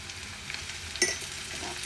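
Ginger and garlic frying in a pan with turmeric and chilli, a soft steady sizzle broken by one sharp clatter partway through.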